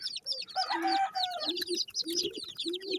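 Young roosters (stags) at a backyard coop, close-up clucking and short crowing calls in quick overlapping bursts, with other bird chirps in the background.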